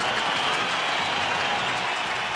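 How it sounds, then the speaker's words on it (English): Crowd applause from the Trails in the Sky video game, a dense, steady wash of clapping that holds at an even level for the whole stretch, with no voices over it. "let's hear a big round of applause for the victors."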